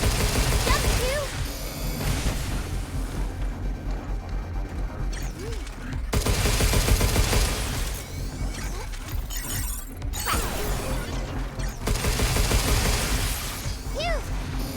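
Video game gunfire: repeated loud, crashing shots and impacts in dense bursts with short gaps, mixed with game effects, while a voice talks over them.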